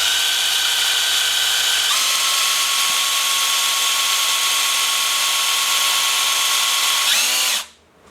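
A power drill turns an AMC 360 engine by hand-easy speed to push oil to the rockers, a loud continuous whine that shifts pitch partway as drag builds, then cuts off abruptly at the end; no talking.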